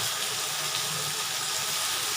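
A short, steady hiss and sizzle as a small splash of water is sprinkled onto cluster beans frying in oil in a hot pan, close and fairly soft, with no talking.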